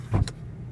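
A car's electric sunroof motor whirs briefly as the sliding glass panel moves, a short close mechanical hum that stops abruptly, leaving a quiet cabin.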